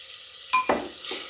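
Onion and tri-colored peppers sautéing in an Instant Pot: a brief scrape of a utensil stirring the vegetables, with a soft sizzle close by.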